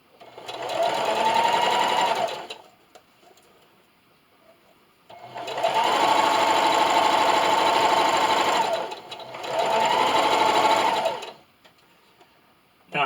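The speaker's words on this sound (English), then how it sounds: "Then just keep sewing." A sewing machine stitches along a hanging towel in three sustained runs, a fast, loud mechanical whirring broken by short quiet pauses, with a brief click at the end.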